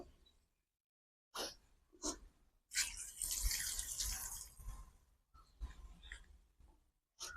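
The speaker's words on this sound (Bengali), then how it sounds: "এর মধ্যে আমি সামান্য পরিমাণ জল দেব" Water poured into a pot of chicken biryani, a few splashing bursts and one longer broad gush with quiet gaps between, close and fairly faint.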